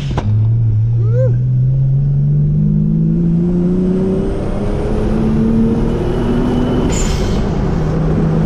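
A turbocharged Supra 7MGTE engine in a mud truck revs up, its tone climbing steadily over several seconds into a loud, rising roar with a brief whistling sound near the start.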